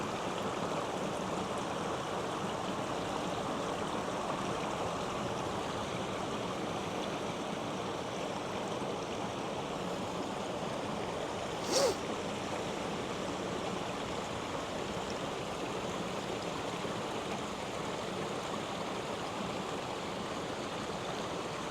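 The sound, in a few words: partly frozen stream flowing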